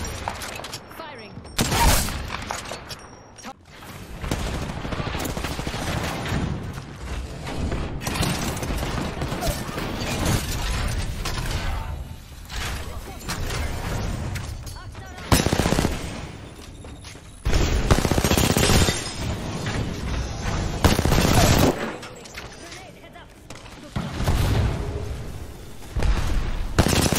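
Gunfire in Apex Legends, with bursts of rapid shots, loud booms and sharp cracks coming in waves over the whole stretch, mixed with game voice lines and talk.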